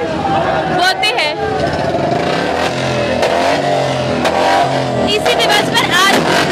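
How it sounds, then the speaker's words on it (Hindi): Motorcycles rev continuously in a loud, dense roar during a Rajput community bike rally in Jammu marking Maharaja Hari Singh's birth anniversary, with crowd voices and chatter mixed in throughout. "आज तमाम राजपूत बिरादरी जो है उन्होंने बाइक रैली निकाली है"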